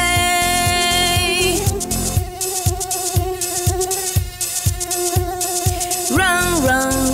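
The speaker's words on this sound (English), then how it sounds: "Buzzy mosquito, buzzy mosquito, please don't ruin my" A buzzy cartoon mosquito whine drones over a bouncy children's nursery song, loud and continuous with a pulsing musical beat beneath it.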